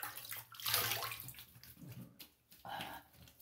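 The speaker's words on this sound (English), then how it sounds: "So let me stop here and rinse up." Water splashes and runs in short bursts as a face is rinsed after a wet shave with Black Void shaving soap, with a louder gush near the start and another splash toward the end, close by and without talk.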